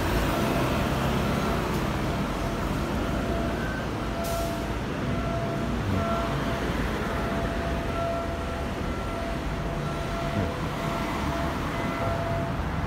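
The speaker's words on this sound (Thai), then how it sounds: "นี่รถรางไฟฟ้า BTS" A Bangkok BTS Skytrain runs near a busy road, a dense, continuous roar of traffic and rail rumble with steady tonal whines layered on top, loud and unbroken throughout.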